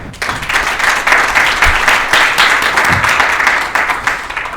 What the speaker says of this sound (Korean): 김 교수님의 발표를 큰 박수로 청하겠습니다